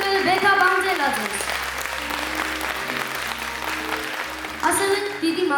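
An audience claps in a dense, steady burst at the closing concert of the Imereti Voice studio, while an amplified voice speaks over the applause, which swells again near the end.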